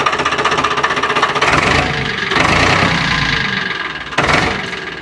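A tractor engine runs loudly and steadily nearby, its pitch rising and falling as it is revved in a few bursts.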